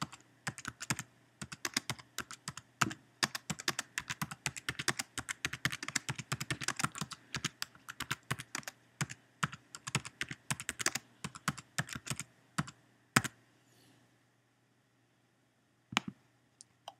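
Rapid, continuous typing on a computer keyboard sounds close and clear for about thirteen seconds, then stops, leaving a near silence broken by a couple of isolated keystrokes.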